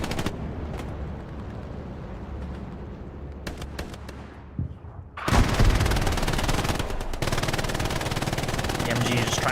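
Machine gun hip fire in the Hell Let Loose video game: dense, loud bursts of automatic fire crackle continuously in the second half after scattered shots and rumbling earlier, with a voice commentating over the battle.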